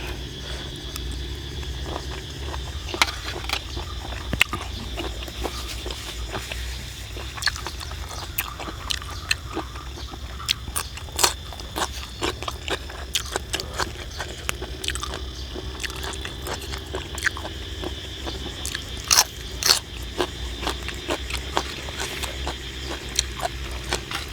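Someone chews crunchy sweet apple snails served with a spicy fermented fish dipping sauce, with repeated soft crunches and squishy bites spread over a steady low background of insect chirps, close up and with no talk.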